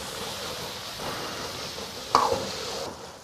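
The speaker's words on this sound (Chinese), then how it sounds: "小火稍有煸炒后下姜葱蒜末" Sichuan chili bean paste, ginger, scallion and garlic stir-frying in a little oil in a wok over low heat give a faint, steady sizzle and stir, with one sharp clink of the utensil near the end.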